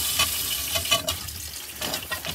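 Water sprays and hisses from a pipe in a bus conversion bathroom, a broad steady rush with a few brief surges, close and unbroken for a couple of seconds.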